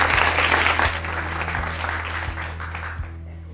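Studio audience applause on a French-language TV game show: a dense, steady wash of clapping that holds loud for several seconds and then slowly thins, with no talk over it.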